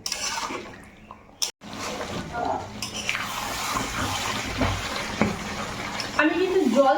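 Chicken being stirred with red chili, turmeric and cumin powder in a pan with no added water, a close wet sizzle with scraping and a brief pause, spoon clanks and shuffling near the end.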